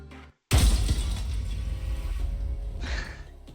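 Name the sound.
glass shattering sound in the video game Lobotomy Corporation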